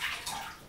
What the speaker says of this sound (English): And then slowly just put a little bit of water on her.